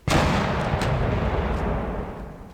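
Cannon fire in the From the Depths combat game, striking heavy armor: one loud, booming blast with a sustained roaring rumble that slowly fades, with no talk.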